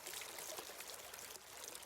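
A gentle stream flows past a forest grove bank, giving a soft, continuous trickle and babble. Bright splashy texture runs throughout at close range, with no voices.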